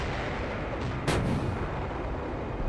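A single heavy tank cannon shot booms in a military video game battle, a sharp report rising out of a constant rumbling background of engine and combat noise, with no voices.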